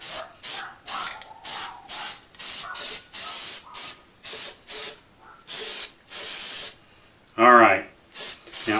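An aerosol can of Magnaflux dye penetrant hisses in a rapid series of short, evenly spaced sprays, close by, with a brief voice near the end.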